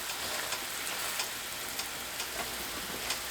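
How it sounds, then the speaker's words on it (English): Beef chuck roast sears in butter in a cast iron skillet over medium heat. The sizzle is loud and continuous and close, with faint pops and crackles running through it. No one speaks. "So you want to sear this. It takes about 2 to 3 minutes on each side."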